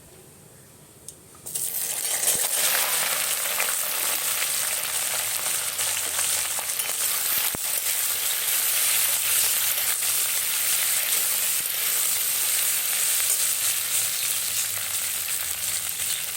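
Okra tipped into a hot pan of oil with sliced green chillies bursts into a loud, steady sizzle after a quiet start, frying continuously with a few faint clinks and no talking.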